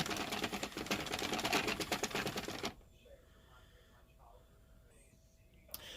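A hand-cranked circular knitting machine whirs and clatters in a fast, even mechanical rattle for a few seconds, then stops, leaving quiet room noise and a faint click at the end.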